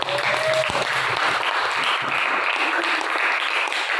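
Classroom applause during an Arabic language lesson, a steady wash of many hands clapping at an even level, with a brief tonal sound near the start.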